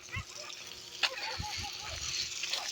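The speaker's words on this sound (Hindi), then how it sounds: "तो ये देखो दोस्तों, पानी आ चुका है मोटर को।" Water gushing from a motor-driven pump near a hostel, a steady rushing flow with a few sharp knocks, heard close under a voice.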